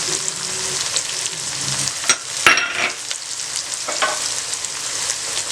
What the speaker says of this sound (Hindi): लहसुन का पेस्ट डाल दें।